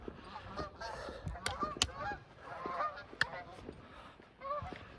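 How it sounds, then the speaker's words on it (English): Geese honk repeatedly outdoors beside a disc golf course, loud sharp calls scattered in irregular bursts over a steady murmur of the flock, with no talking. "All day with these dang geese."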